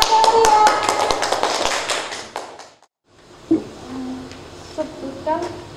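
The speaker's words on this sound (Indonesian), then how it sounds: "Iya, beri tepuk tangan ya." Classroom applause at a school teaching competition in Semarang, with a dense burst of clapping that dies out midway, then a few scattered claps and light voices in a quieter room.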